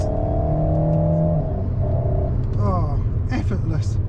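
A turbocharged Alpine A110S from 2023 drones steadily while driving, a smooth continuous engine rumble with a low tonal hum throughout, running under a voice talking.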